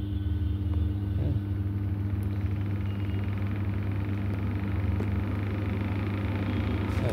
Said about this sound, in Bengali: এই মেশিন ঘুরতেছে, এটা স্পিডে দিই।